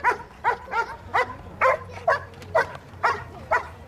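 A police dog barks repeatedly in sharp, evenly spaced yaps during the arrest of a suspect at a public demonstration, the barks loud and close over a low background hum.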